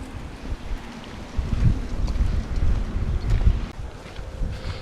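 Wind buffets the microphone on a coastal cliff-top hike above rough seas, a low gusty rumble rising and falling unevenly throughout, close and fairly loud with no talking.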